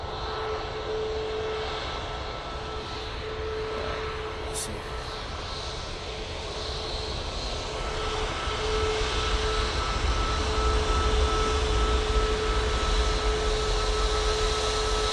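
A TUI airliner takes off from Manchester Airport for Enfida, a steady distant jet roar that slowly grows louder and deeper toward the end, with a constant faint tone and a voice talking over it.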